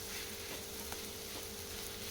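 Bitter gourd fry being stirred in a hot pan, a steady, dense sizzle with faint scraping throughout the short stretch.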